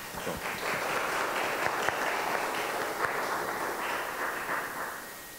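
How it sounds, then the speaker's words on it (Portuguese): An audience at a university inaugural lecture applauds steadily, a dense wash of clapping that holds evenly for several seconds before tapering off near the end. "Aplausos"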